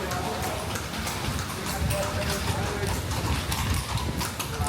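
Horse hooves clip-clop on a Cartagena street at night, a quick, steady run of hoof strikes mixed into busy street noise, with a person talking over it.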